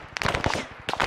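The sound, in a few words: gunfire in video game Arma 3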